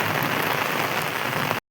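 Steady rain falls on an outdoor surface in Meerut after a full day of rain, a dense, even hiss that is close and fairly loud and runs alone for under two seconds before stopping.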